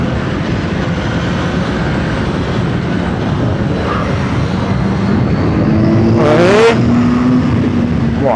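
A CFMOTO 750SR-S motorcycle engine drones steadily under throttle while riding, with a rising rev sweep near the end and heavy wind and road noise.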